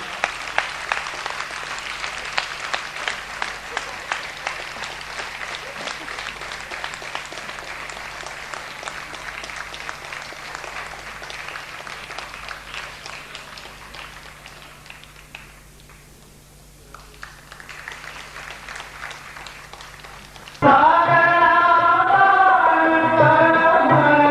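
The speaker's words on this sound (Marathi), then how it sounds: "यानंतर आपण टाळ्यांचा जोरदार कडकडाट करूया" An audience applauds loudly and steadily for about twenty seconds as a guest comes on stage at a welcome ceremony for a Veer Savarkar film, held at Prathamesh Kala Kendra in 2002. The clapping thins briefly, then gives way to music.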